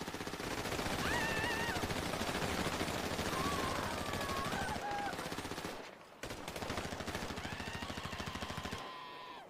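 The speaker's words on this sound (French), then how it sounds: "on voudrait bien tirer quelques balles pour le coup" Guns firing bullets outdoors, with dense, loud bursts of rapid shots running almost continuously, a brief pause near the end, then more firing.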